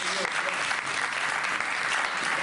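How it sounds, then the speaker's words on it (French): Audience applause in a hall after a woman's testimony, steady dense clapping from many hands held at an even level throughout, with no voices standing out. "On l'applaudit encore"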